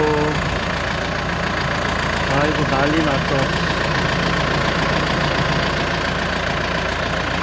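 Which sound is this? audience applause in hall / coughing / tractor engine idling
tractor engine idling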